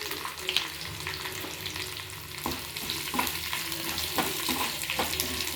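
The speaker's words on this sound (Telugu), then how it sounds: "ఇవి గోల్డెన్ కలర్ వచ్చేంత వరకు వేయించుకొని" Chilies and cumin fry in a pan with a continuous crackling sizzle, broken by several light scraping taps as they are stirred.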